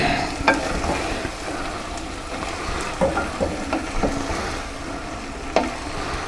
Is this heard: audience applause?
no